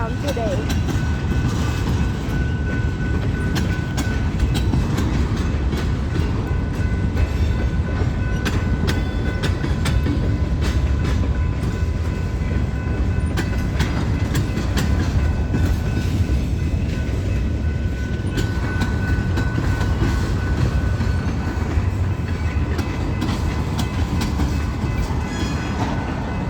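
A very long BNSF eastbound freight train led by locomotives 4162, 4227 and 4312 rolls slowly out of a yard, a steady continuous rumble with wheel clatter and squeal throughout, close and loud the whole time.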